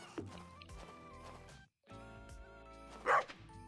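A pet dog barks in a video game, a short yip near the start and a louder bark burst later, set over steady game music with a brief silent gap in the middle.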